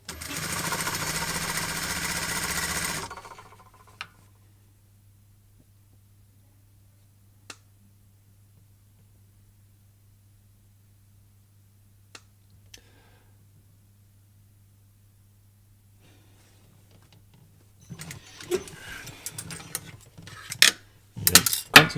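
A sewing machine stitches a notched collar, running in one fast steady burst at the start and again in short runs near the end, with a few faint clicks in the quiet between.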